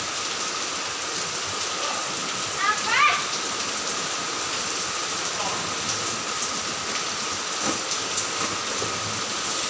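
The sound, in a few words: heavy rain falling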